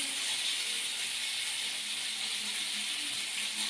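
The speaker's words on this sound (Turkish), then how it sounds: "balığımı kızartıyorum yine" Fish frying in a pan in a home kitchen, a steady, loud, unbroken hiss and sizzle of hot oil with no talking.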